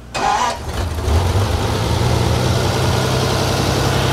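A 1938 Lincoln Zephyr engine fitted with a three-carburetor deuce setup cranks briefly and fires, then settles into a loud, steady idle that runs alone and without pause.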